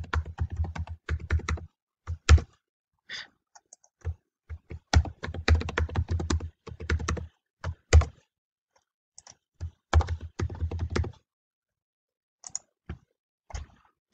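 Password being typed on a computer keyboard while setting up a remote desktop user account: bursts of close, crisp key clicks in irregular rhythm with short pauses, no talking.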